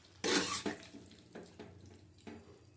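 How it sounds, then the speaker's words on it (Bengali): Water poured into a cooking pot of potatoes simmered with tomato and ripe chilli, a bright splashing gush at first, then a few shorter pours and sloshes, close and fairly quiet. "অল্প করে জল দেবো, পোস্ত পরে দেবো, সিদ্ধ হয়ে যাক আলু।"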